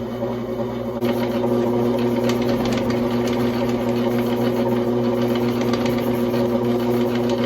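A Rainshadow motor spins a gaff hook against 80-grit sandpaper, giving a steady, loud mechanical hum with a gritty, sanding rasp that starts after about a second and holds evenly to the end.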